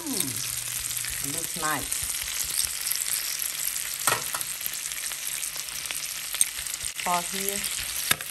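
A T-bone steak fries in a pan on a stove, giving a steady close sizzle and spatter that continues throughout while a person speaks briefly over it.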